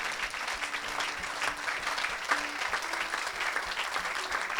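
Sustained applause from an audience at a church worship service, a dense steady clatter of many hands clapping with no pauses across the whole stretch, a faint voice audible beneath it.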